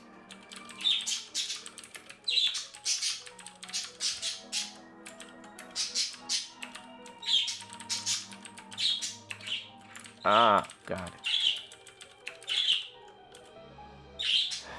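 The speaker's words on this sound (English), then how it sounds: "My birds are peeking my mic again" Pet birds perched near a microphone let out sharp, close squawks and chirps in repeated bursts, mixed with clicky keyboard typing at a desk, and a voice speaks briefly.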